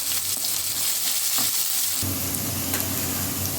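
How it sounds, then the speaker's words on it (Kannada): Onion and green chilli fry in a pan with a constant, close sizzle and stirring scrapes, swelling louder midway as more goes in, with no talking. "ಹಾಗೆ ಈರುಳ್ಳಿ ಕೂಡ ಹಾಕ್ಕೊಳ್ತಾ ಇದ್ದೀವಿ ಸ್ವಲ್ಪ ಮುಖಾಂತರ ಫ್ರೈ ಆಗಬೇಕು"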